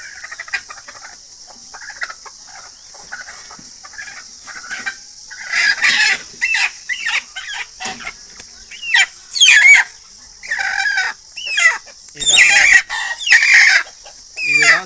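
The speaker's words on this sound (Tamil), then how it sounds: "இன்றைக்கி நம்ம சிறுவிட கூண்டில் வச்சுருக்கோம் அந்த கோழி எப்படி இருக்குன்றத பார்க்குறோம்" Siruvidai country chickens kept in a cage cluck repeatedly and crow loudly at close range, with bursts of calls overlapping through the stretch and no talking.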